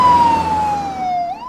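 An ambulance siren wails steadily nearby, one long descending tone that bends upward near the end, loud and alone.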